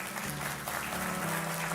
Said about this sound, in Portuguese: agora eu quero que vocês aplaudam ao Senhor por isso